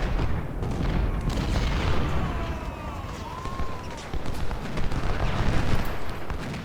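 Artillery cannon fire from 10-pounder and 6-pounder guns in the Civil War strategy game Ultimate General: Civil War, repeated low booms and rumbling blasts, some distant, over a continuous battle din.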